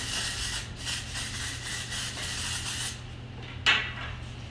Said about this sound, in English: shake it out, spray it in there